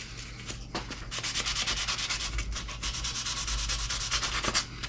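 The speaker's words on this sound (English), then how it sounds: "now I'm going to go back over it with our other sandpaper and just kind of clean it up a little bit" Sandpaper rubs steadily over the white ash body of a Firefly FFST electric guitar, a continuous close scratchy rasp with rhythmic back-and-forth strokes that runs for the whole stretch without talk.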